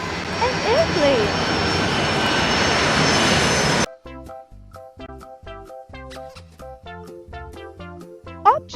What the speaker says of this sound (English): and airplane.